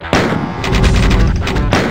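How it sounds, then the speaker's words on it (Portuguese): Gunfire in the video game Doom, loud shots with a sharp blast at the start and another near the end, heavy booming sound between them and no pause. "O som do tiro tá tipo estourando meus tímpanos"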